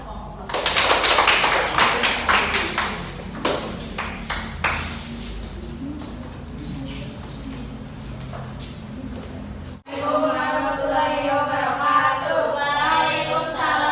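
Classroom applause for a student group, a burst of hand clapping that fades into a murmuring room, then a student starts speaking.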